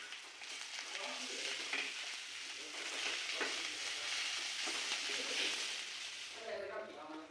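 Onion and spice mixture for thecha frying in a pan, a steady continuous sizzle with occasional stirring scrapes, while a voice talks over it.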